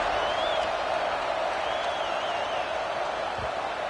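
A large football stadium crowd roars steadily at kickoff of an NC State game, a dense sustained wall of cheering and applause with faint whistles rising above it, no commentary over it.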